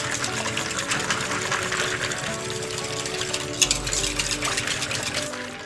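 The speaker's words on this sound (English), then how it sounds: "Make sure when you're whisking that you whisk all the way around the outside and then bring it into the center" A whisk works continuously through chocolate mousse in a bowl set in an ice bath, giving a steady whirring, sloshing churn with a few louder clinks partway through.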